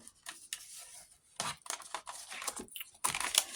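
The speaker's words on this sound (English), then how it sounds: "I'm going to fold that over" Scored craft paper being folded over gives quiet, crisp creasing crackles and small taps in short separate bursts with pauses between.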